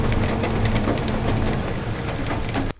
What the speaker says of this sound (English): I was all bummed out about the hail hitting the roof of my truck